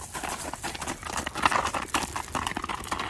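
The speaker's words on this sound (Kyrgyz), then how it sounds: "Таза кыргыз жылкы." A purebred Kyrgyz horse is heard as steady clip-clopping hoofbeats with some rustling against a fairly busy outdoor background. The hoofbeats continue without a break for about three seconds.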